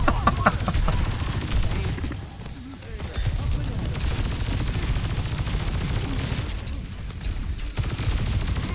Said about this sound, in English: Casually trying to shoot the Tracer through the wall.